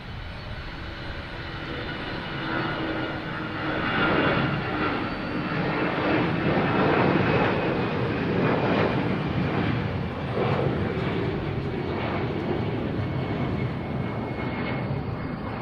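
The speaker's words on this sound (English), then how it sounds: "here's American Airlines at A319" An American Airlines Airbus A319 jet passes near an airport, a steady broadband engine roar that swells and fades across the clip, heard alone without talk.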